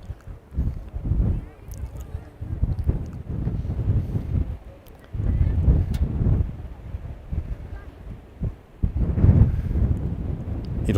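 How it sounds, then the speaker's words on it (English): Wind gusts buffet the microphone at an outdoor girls' varsity high school soccer game. The rumbling bursts come and go in uneven waves, loud and close, with no clear voices. "especially with this wind blowing right against that"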